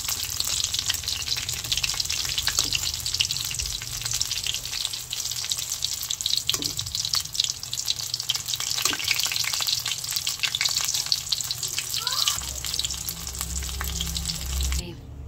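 Dynamite lumpia, chili pepper spring rolls, fry in hot oil with a steady, loud, continuous sizzle throughout, broken by occasional soft clinks and stirring sounds.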